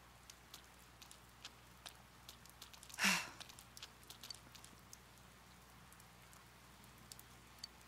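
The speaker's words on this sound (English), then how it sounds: "Rain and clouds." Rain falling in the video game Persona 4 Golden, a faint, steady patter of drops with scattered soft ticks and one brief louder burst midway, no talking.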